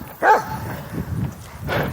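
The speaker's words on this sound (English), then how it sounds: "I apologize for the dog barking." Dogs barking outdoors on a sunny day in Oklahoma, with two separate sharp barks at the start and end and quieter rustling or steps between them, no speech.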